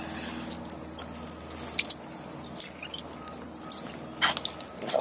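Lemons are squeezed in a hand juicer close up, giving wet squishing and squelching sounds with small drips and clicks of the press in an uneven rhythm.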